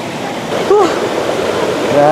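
A river flows past with a steady, full rush of water close by, and a brief voice-like tone rises over the current partway through.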